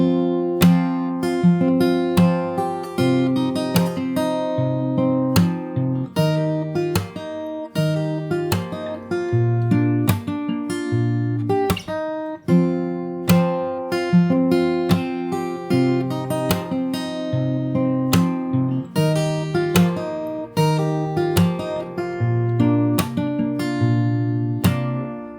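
Fingerstyle acoustic guitar plays a chorus from the start, with a slap technique. The picked notes and chords ring steadily and close up for the whole stretch, with no voices.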